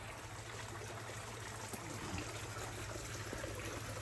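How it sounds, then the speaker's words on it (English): Water trickles and splashes steadily in a fish pond at a Thai restaurant, a continuous close bubbling flow with a faint low hum underneath and no talking. "So it's got lots of water flow."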